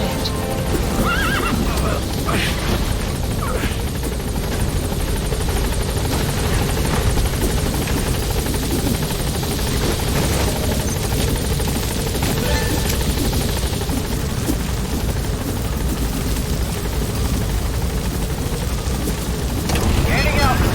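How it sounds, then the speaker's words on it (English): A support helicopter arriving in the video game Metal Gear Solid V: The Phantom Pain, with loud continuous rotor thumping and engine roar sustained throughout, mixed with game ambience. "Support helicopter has arrived."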